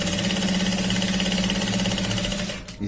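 A sewing machine stitches a shirt sleeve in a steady, loud, fast mechanical whir that runs unbroken, then slows and stops near the end, with no talking.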